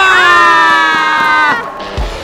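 A crowd at a badminton match cheers and shouts loudly in one sustained, excited roar that swells at first and then slowly fades, close and dense.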